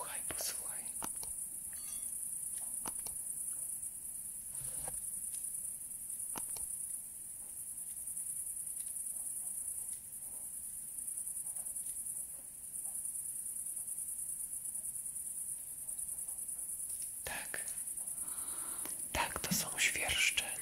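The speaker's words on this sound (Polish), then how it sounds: "Świerszcze." Crickets chirp steadily and continuously throughout, a constant high insect trill with occasional soft whispering and rustling sounds layered over it.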